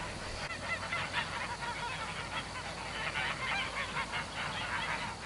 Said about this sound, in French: là, c'est une oie d'élevage